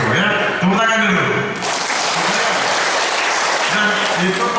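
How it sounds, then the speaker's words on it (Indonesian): Audience applause at a village public gathering, a loud sustained wash of clapping that swells after a moment and continues, with a voice speaking over it at the start and end. "Tepuk tangan dulu."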